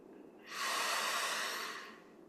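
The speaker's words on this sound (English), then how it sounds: "And breathe it in." A slow, deep inhale through the nose during a dawn equinox ceremony, rising gently and holding steady for about a second before fading, close and clear against a quiet background.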